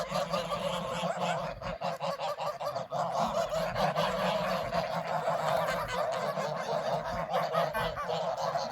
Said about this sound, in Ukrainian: А де гусак старий?